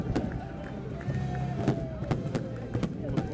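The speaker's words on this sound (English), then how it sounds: "fireworks going off in preparation for the trophy being handed over" Fireworks pop and crack in sharp scattered bursts during the trophy ceremony of a 2012 beach soccer Intercontinental Cup final, over a steady roar of crowd noise and babble.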